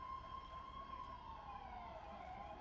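A police siren in a video game roleplay wails steadily, a faint continuous tone that glides slowly downward over soft background rumble.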